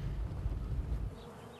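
A low, steady buzzing hum of many bees, fairly close, fading slightly toward the end.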